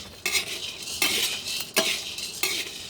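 Yellow coffee beans stirred and roasted in a hot pan, with about four rhythmic, close scraping strokes of a utensil against the metal and a light rattle of beans.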